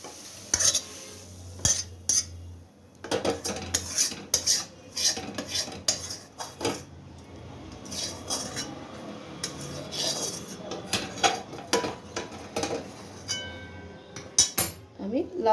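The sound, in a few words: pouring cooked bottle gourd prawn curry into a dish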